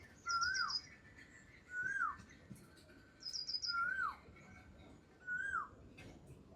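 Four repeated whistled calls from an Asian koel in a village near Botad arrive at an even rhythm, clear but somewhat distant, each a rising-then-falling note over a quiet rural backdrop.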